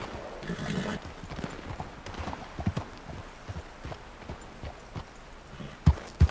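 Hooves clip-clop steadily as a horse moves over rough ground in the Red Dead video game, a close run of uneven thuds with a couple of sharper knocks near the end.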